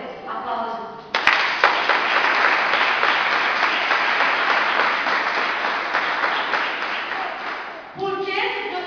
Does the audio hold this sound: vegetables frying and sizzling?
no